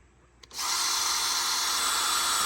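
A brief click, then a power drill with a 5/16-inch bit spins up, boring into a maple tree to tap sap, running steadily at a high, even whine, close and loud.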